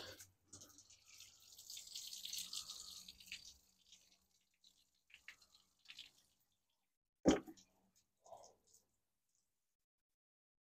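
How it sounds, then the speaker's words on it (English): Water trickles and drips from a newly opened valve in a quail watering system. A soft splashy rush comes first, then scattered small drips and one sharp louder drop amid near silence. "there's water coming out of the valve."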